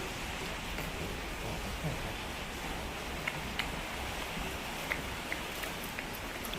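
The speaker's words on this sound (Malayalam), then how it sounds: "ശക്തിയായ മഴ" Steady, dense rain roars evenly throughout, with a few sharper drops tapping out above the continuous wash.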